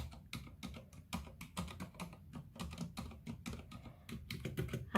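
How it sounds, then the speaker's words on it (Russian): Steady typing on a quiet mechanical computer keyboard, close and distinct, with dense irregular key clicks and thocks running throughout, alone without voices. "Абсолютно тихая механическая клавиатура."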